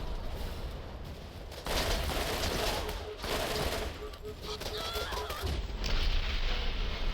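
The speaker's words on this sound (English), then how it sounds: "Who's shooting me?" Dense video game gunfire, a continuous fusillade of overlapping shots with louder bursts, mixed with game ambience and a voice talking over it.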